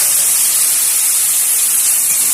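Ivy gourd pieces, salted and tossed with turmeric, frying in hot oil: a loud, dense, continuous hiss and spray of sizzling that holds steady throughout.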